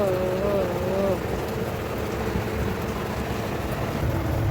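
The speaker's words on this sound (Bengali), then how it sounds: "এদিকে আসো, এদিকে আসো, বৃষ্টি হচ্ছে" Steady rain falls outside as a dense, even hiss from start to end, with a voice speaking briefly at the start.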